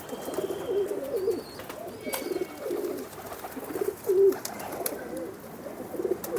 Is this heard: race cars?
no